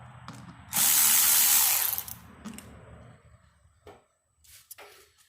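An air filter being pulled off an Orion RXB 150 pit bike, with a loud burst of ratcheting tool noise followed by scattered clicks, knocks and plastic handling sounds, close by, with no talk.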